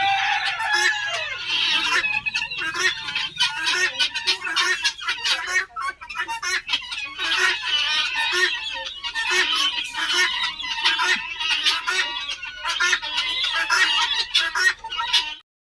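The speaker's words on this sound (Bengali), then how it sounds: "এবার এখানে মুরগি দেখতে এসছি" Chickens cluck and squawk almost without pause at a house visited for a pre-wedding feast, the calls dense, close and fairly loud over a faint low hum, ending abruptly.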